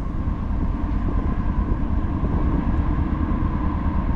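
A double-stacked CSX freight train rumbles past in Middlesex, New Jersey, a steady, loud low roar with a faint hum holding level across the whole stretch and no talk over it.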